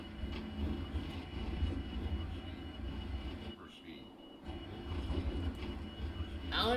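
An airliner in Microsoft Flight Simulator shudders through storm turbulence near a tropical cyclone, a continuous low rumbling rattle with creaks and clatters, briefly dropping away midway before surging back.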